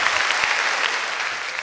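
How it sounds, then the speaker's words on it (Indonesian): Loud, dense applause from the audience at a stand-up comedy show, a continuous close wash of clapping throughout with no pauses. "Oke sekali lagi tepuk tangan yang luar biasa dulu"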